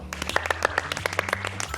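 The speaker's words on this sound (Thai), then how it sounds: "ขอ ปรบมือให้กับทางทีมออกแบบ แล้วก็ตัวพวกเรา" A small group claps for a design team at a renovated house being turned into a home office, with distinct, separate hand claps in a loose, uneven rhythm over a low background hum.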